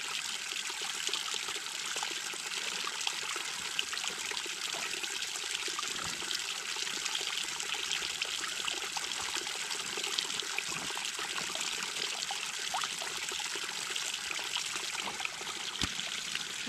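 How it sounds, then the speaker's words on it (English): Laundry wrung out by hand into a tub in an off-grid setup, water trickling and dribbling steadily in a soft continuous patter, close and quiet with no talk. "You can see here I kind of wring them out a little bit"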